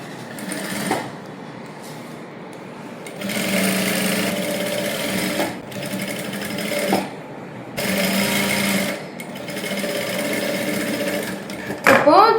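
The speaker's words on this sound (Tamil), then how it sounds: "கழுத்தை சுற்றி ஒரு தையல் போட போகிறோம் ஓரம்" Sewing machine stitching around the neckline of a princess cut blouse with lining tucked inside, running in long steady whirring bursts separated by short pauses, close and loud with no talk.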